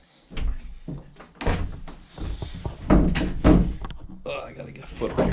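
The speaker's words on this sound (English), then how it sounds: "Man, that door started opening by itself." In a prepper house, a door opens by itself with a series of thumps, knocks and creaking bumps that are loud and close, while a person talks over them.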